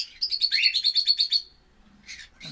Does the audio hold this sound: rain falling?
no